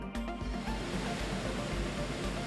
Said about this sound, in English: Oh, the river overflowed.